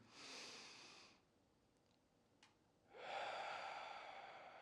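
Slow, deep breaths taken during a mindfulness breathing exercise: two long, soft airy rushes, one at the start and a fuller one near the end, separated by a quiet pause, all faint and close.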